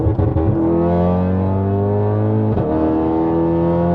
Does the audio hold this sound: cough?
no